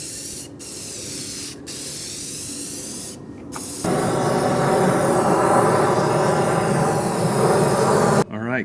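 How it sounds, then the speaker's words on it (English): Semi-gloss clear coat spraying onto a Jeep hard top, a loud close hiss that starts in short bursts, then runs as a long continuous spray before cutting off. "so now I'm going to hit it with some clear coat."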